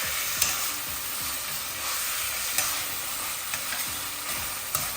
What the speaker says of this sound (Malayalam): ഒന്ന് നന്നായിട്ടൊന്ന് ഇളക്കി കൊടുക്കുക